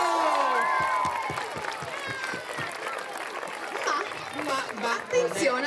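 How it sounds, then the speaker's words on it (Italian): Audience at a parish summer camp opening evening in Cormòns applauding and cheering, a lively burst of clapping mixed with shouts and chatter, with voices rising again toward the end. "Un applauso!"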